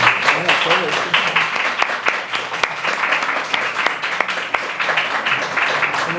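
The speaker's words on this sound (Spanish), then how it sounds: "Un aplauso." An audience at an academic seminar on labour history applauds after a talk, a steady crowd of clapping with some sharper individual claps standing out, fairly close and continuous.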